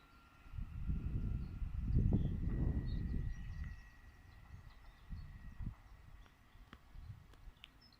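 A train pulls away from the station at Hadley Wood, a distant low rumble that swells for a few seconds and then fades, with faint birdsong and small clicks in the quiet background.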